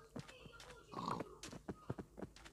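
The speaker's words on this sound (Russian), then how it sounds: "Мои свиньи." Pigs in the Minecraft video game give a series of short, quiet grunts and oinks in quick succession.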